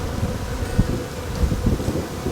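Honeybees buzzing around a hive flipped over by harsh winds, a low humming drone under heavy wind rumble and microphone buffeting, with intermittent gusts.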